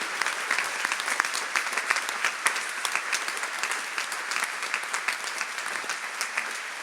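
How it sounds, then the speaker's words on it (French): A crowd at a Radio Maria gathering applauds its volunteers with sustained, lively clapping, individual sharp claps standing out from the dense, steady roar and no one speaking. "on peut vraiment faire un tonnerre d'applaudissements pour tous nos bénévoles"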